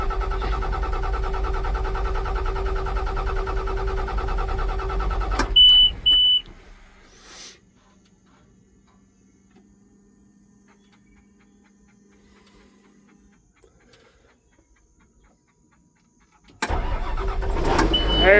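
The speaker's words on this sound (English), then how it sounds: "Give that fuel pump another chance to prime." A logging skidder engine: a loud diesel runs, then cuts off with a couple of short beeps, leaving a long near-silence before the engine cranks and roars back to life.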